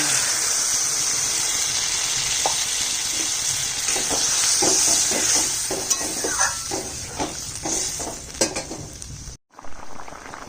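Water splashes into a pan of fried potato and ridge gourd curry with cooked-down spices, setting off a loud, steady sizzle with scattered crackles and pops and a brief break near the end.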